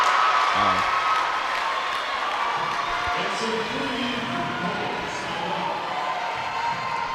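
Crowd noise at a high school girls' basketball game, Maranatha Christian Academy vs DeLaSalle, a steady roar of cheering and applause filling the gym throughout, with play-by-play commentary over it.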